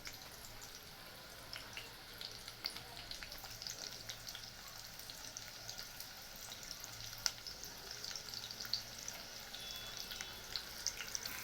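Onions frying in hot oil for a Kolhapuri veg sandwich filling, a faint steady crackling sizzle with small pops and spits running throughout, no talking.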